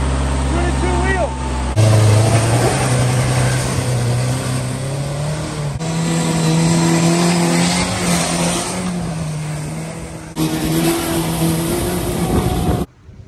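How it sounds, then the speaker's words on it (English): Ford Ranger pickup trucks racing outdoors, engines revving loudly and continuously with shifting pitch, tire squeal and skidding, and a voice speaking over the motor noise. "But I got these hoodlums out here racing these Ford Rangers!"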